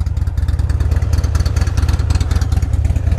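A 2006 Buell XB12R sport motorcycle's V-twin engine rumbles loudly and up close with a pulsing, lumpy beat and slight revving, heard alone.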